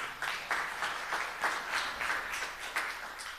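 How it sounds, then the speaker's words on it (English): A church congregation claps for the worship team in a steady, moderately distant round of applause with rhythmic pulses through the hall. "Hey, give them a clap, yeah."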